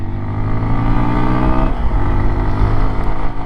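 A carbureted 149cc air-cooled single-cylinder engine on a 2023 Honda XR150L dual-sport motorcycle revs steadily up close, loud and continuous with a rising pitch change around the middle, with no talk over it.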